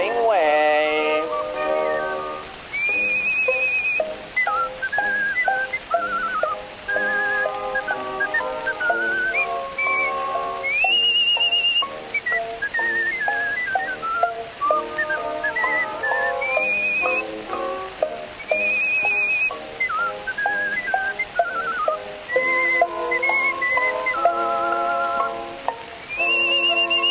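A person whistles a lively, bouncy tune with a song's instrumental accompaniment beneath, the whistled melody recurring in short phrases throughout, prominent and close.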